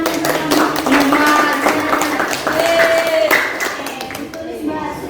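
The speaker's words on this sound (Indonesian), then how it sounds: "Beri tepuk tangan bersama." A classroom group clapping together in a steady burst of applause lasting several seconds, with voices and chatter mixed in before it trails off.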